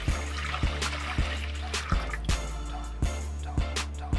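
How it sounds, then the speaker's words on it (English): Brine liquid poured into a small briner bucket for wings, a steady trickling pour with periodic splashing drips, close and moderately loud with no talking. "We're going to dump our liquid into the bucket."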